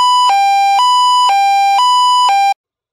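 A LAMPHUS SoundAlert siren plays its high-low warning tone. Two pitches alternate steadily, about twice per second, loud and close with no other sound, then stop abruptly.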